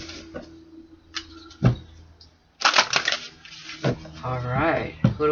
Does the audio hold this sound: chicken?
no